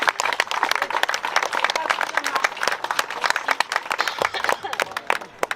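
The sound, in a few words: audience applause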